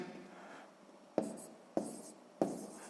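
Pen strokes of someone writing numbers by hand while working a subtraction problem, a soft scratchy scrawl with three sharp taps of the pen against paper, close and quiet with no talking.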